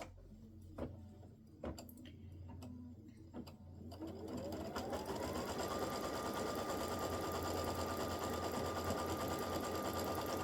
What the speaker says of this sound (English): I'm going to stitch color stop one more time, and it's going to hold my batting down